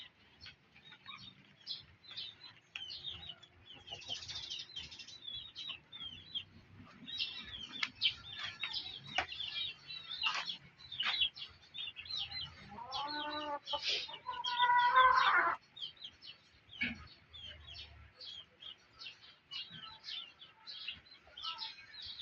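A mother hen clucks in short repeated bursts, near and fairly loud, with a longer rising squawk partway through and small chick-like peeps scattered around it.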